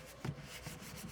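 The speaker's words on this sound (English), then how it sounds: "And press it good all around the edges." Hands press and rub down the edges of a paper junk journal page, soft scraping and rubbing strokes heard close, with a slightly firmer press near the start.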